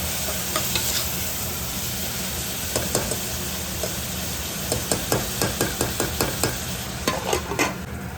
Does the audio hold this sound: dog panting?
no